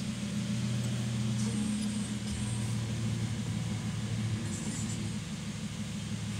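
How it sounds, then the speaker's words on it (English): A 2023 Toyota Corolla Cross 1.8 XR idles steadily just after starting, a low, even engine hum that holds constant throughout with no revving. "Vehicle starts nicely."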